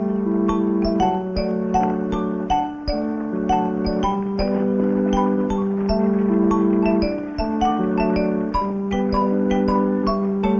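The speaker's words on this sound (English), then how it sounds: "Come on, Danny, you can help ring the bells." Church bells ring for the Angelus in a western town, a steady overlapping peal of several tones struck repeatedly and loud throughout, with no voices.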